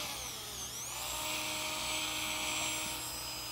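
A polishing wheel on a dental handpiece works a ceramic restoration, a faint high whine rising and then holding steady under a low background hum.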